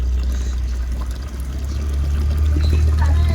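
Steady pouring and splashing water over a dog being bathed, close and continuous, with a low rumble underneath and no voices.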